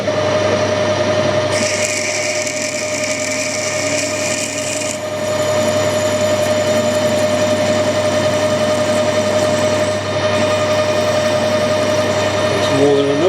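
A 5.1 mm tapping drill for a quarter Whitworth thread bores into a camera mount jack wheel part, giving a loud, continuous motor drone with a steady whine and grinding rasp throughout.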